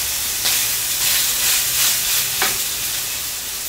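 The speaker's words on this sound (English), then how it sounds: "transfer your steak to the grill pan. Grill for about 2 minutes." Steak for a Chinese pepper steak sears in a grill pan with a loud, close, continuous sizzle and hiss, with a couple of brief crackling bursts.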